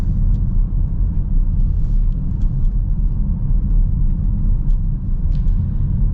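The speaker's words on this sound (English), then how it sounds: "The V6 is pretty responsive. It's got some good power overall." Steady low road rumble inside a 2025 Chrysler Voyager minivan with a V6 engine while driving, a continuous deep drone with faint high ticks and no talk.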